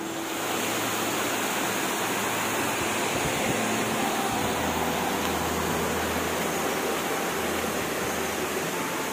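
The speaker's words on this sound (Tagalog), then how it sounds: "Ayan po, isa pong waterfalls dito sa May Badyang." Badyang Waterfalls in Northern Samar, swollen after overnight rain, gives a loud, steady broadband roar of rushing water with no pauses or voices.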